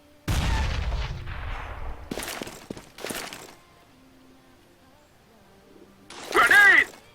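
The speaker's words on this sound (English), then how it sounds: "Grenade out! I am throwing a grenade!" A grenade thrown and exploding in CS:GO, heard as several sharp bursts spaced a second or two apart, followed by a louder burst with a voice shouting near the end.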